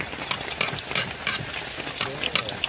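Garlic frying in cooking oil in a home kitchen: a soft, steady sizzle with irregular light scraping taps from stirring, fairly quiet and without talk.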